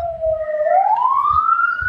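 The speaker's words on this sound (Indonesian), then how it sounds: "Coba itu dari mana ambulans tuh?" An ambulance siren wails loud and close, its tone sweeping steadily upward as it passes, over a low rumble of traffic.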